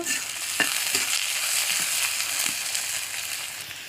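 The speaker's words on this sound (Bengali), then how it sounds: "যতক্ষণ লাল লাল করে ভাজা না হয় ততক্ষণ ভাজবো" Leafy greens with sliced green chillies frying in a pan, a close, dense sizzle with scattered crackles and light stirring taps.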